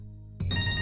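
A phone ringtone starts abruptly and rings on loudly, a bright electronic tone layered over a low hum.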